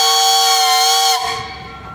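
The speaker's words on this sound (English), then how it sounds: "Hey guys, you got a whistle." A steam traction engine's whistle blows during a steam engine and thresher parade, one loud sustained shrill note that cuts off abruptly, leaving a softer hiss trailing behind.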